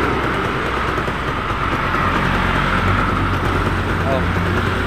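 A Suzuki Rider 150 motorcycle engine keeps idling with the key switched off, a steady continuous drone running through the whole stretch, close and fairly loud, with people talking over it.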